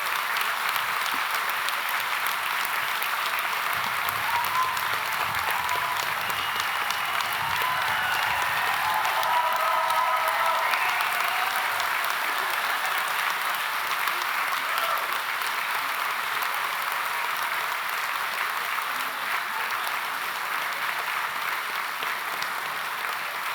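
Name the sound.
graduation ceremony audience applauding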